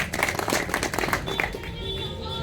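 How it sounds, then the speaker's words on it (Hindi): Audience at a local public event in Hindi clapping, a dense patter of hand claps, moderately loud and continuous for a couple of seconds with some crowd murmur. "बधाइयां, जोरदार ताली बजाइए"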